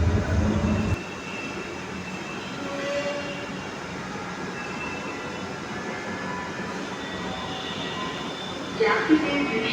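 A Dhaka metro rail train running: a steady rolling hum and rumble of the carriage with faint tonal whines from the motors, a brief louder knock at the start and a rising burst near the end.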